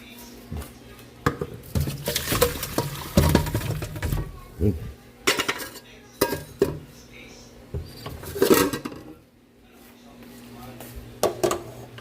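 Metal pots and utensils clank and clatter irregularly as tender boiled pork leg is moved into another cooking pot, with scraping and knocking sounds.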